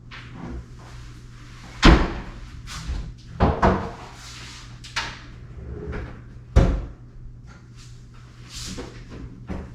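A fridge door in a condo studio is opened and shut with a few sharp thumps and clunks, close by, over a low steady hum and light handling noise.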